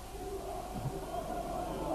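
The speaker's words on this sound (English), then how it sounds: "Bath fans in turn cheer their heroes on" Bath City football fans cheer from the terraces at an FA Trophy match at Hewish Park, a faint, distant crowd roar holding steady throughout.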